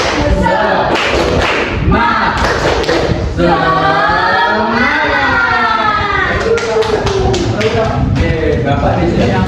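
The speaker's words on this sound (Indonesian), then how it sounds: "Jadi di sini kita akan melakukan briefing tepuk semangat." A school class performs rhythmic tepuk semangat spirit clapping in a classroom, sharp claps and thumps in quick patterns. Loud, busy group voices run throughout and a teacher speaks over the claps.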